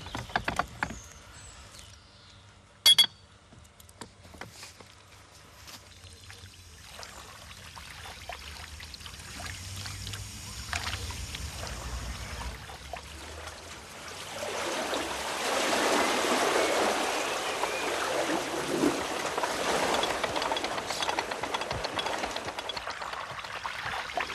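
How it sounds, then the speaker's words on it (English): Water let into a canal lock through a stiff tap opened with a key. A sharp metallic clunk comes first, then a quiet stretch, then a rising, steady rush of flowing water that grows louder and holds. "if I open the tap using this key, then the water will run in and the boat will come up"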